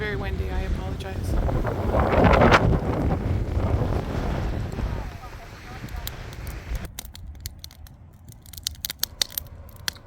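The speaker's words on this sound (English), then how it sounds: "it's very windy" Strong wind buffets the microphone at windy Cavendish Beach, a loud, continuous rumbling roar that surges in the first half and then eases, with faint voices and scattered clicks underneath.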